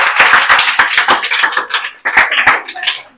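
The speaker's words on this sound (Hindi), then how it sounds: "दोनों के लिए ताली बजाओ, बहुत अच्छे बोला इन्होंने।" A group of schoolchildren clapping together in a classroom, a dense burst of quick, loud overlapping claps lasting a few seconds.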